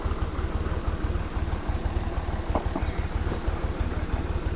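A tractor engine runs steadily with a rope hooked to it, dragging something up out of a bore pit where bricks are being set, with a continuous low rumbling idle that stays loud and unbroken throughout.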